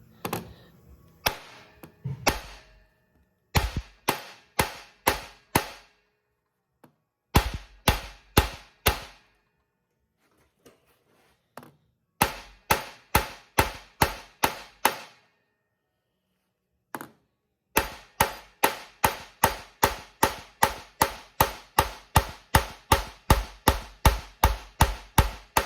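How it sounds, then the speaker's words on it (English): Sharp metallic hammer blows from a high crown body hammer on sheet metal during rubber pad forming, struck in quick rhythmic bursts, groups of rapid strikes separated by short pauses, close and loud with no talking. "I'm just going to use a high crown body hammer."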